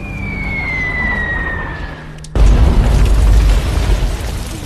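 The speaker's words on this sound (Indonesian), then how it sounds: "Film dimulai dengan scene penyerangan dengan bom yang bertubi-tubi" Bombs going off during an intense attack in a war film about Vietnamese civilians fighting American troops: a descending whistle, then one sudden, close, heavy blast with a deep rumbling roar that fills the rest of the clip.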